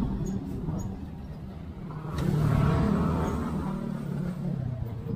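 Tricycles passing on a Manila street, a continuous motor rumble that swells as a vehicle goes by, amid general street traffic.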